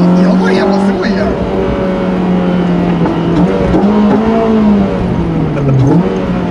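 A Honda Civic Type R FD2 fitted with an aftermarket air intake and catalytic converter revs loudly nearby, its engine note holding high and wavering up and down as the throttle is worked.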